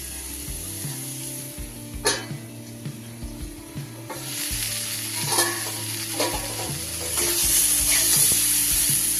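Green papaya frying in a pan hisses softly while a spoon scrapes and stirs in repeated strokes, the sizzle growing louder and more continuous toward the end.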